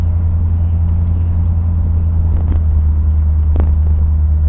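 A 1989 Corvette Roadster on the road, a steady loud engine and tire rumble droning without a break, with a couple of faint knocks over the drone and no talking.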